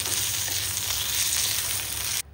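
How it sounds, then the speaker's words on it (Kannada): Loud, continuous frying sizzle of garlic and curry leaves, dense and hissing throughout, with no voices, ending abruptly near the close. "ಸ್ವಲ್ಪ ಕರಿಬೇವು ಹಾಕೊಂಡು ಸ್ವಲ್ಪ 1 ನಿಮಿಷ ಫ್ರೈ ಮಾಡಿ"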